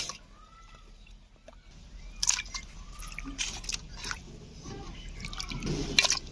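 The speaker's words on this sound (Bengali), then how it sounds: "আমার আম্মা মাংস ভালো করে ধুয়ে নিতেছে" Meat is washed with water in a kitchen, with quiet splashes, drips and wet squishing in irregular bursts, a few sharper clinks standing out among the faint sounds.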